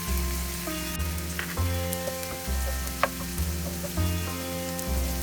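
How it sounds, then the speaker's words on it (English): Half a teaspoon each of cumin and mustard seeds in half a teaspoon of oil for kanda batata poha, a soft, low sizzle with occasional light pops and ticks over a quiet steady hum. "Now I am adding half teaspoon cumin seeds and half teaspoon mustard seeds."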